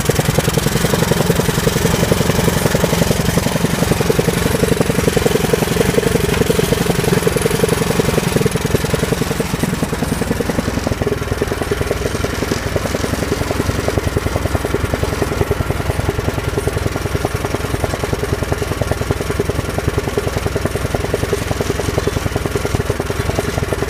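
An off-road lawn tractor engine running with a chain drive, a loud, steady, rapid mechanical chatter and drone that keeps going the whole time, close up with a slight drop in tone partway through.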